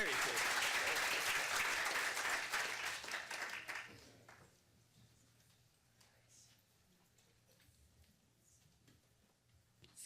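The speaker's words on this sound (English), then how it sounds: "I think we can give him a better round of applause for that." Applause and a standing ovation at a city council meeting in Turlock fill the first four seconds loudly, then fade to a quiet room with scattered sounds.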